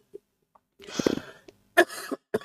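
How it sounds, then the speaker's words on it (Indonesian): A few short coughs from a man during an Islamic religious lecture, close and fairly faint: a small cough, then a harsher burst, followed by two brief throat-clearing coughs in quick succession. "Maaf agak batuk ya."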